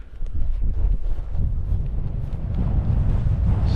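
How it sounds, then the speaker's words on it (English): Strong wind buffets the microphone on the Purbeck Ridge, a loud, continuous low roar with gusting swells that holds steady throughout, with no talk. "There's a really strong wind blowing across here."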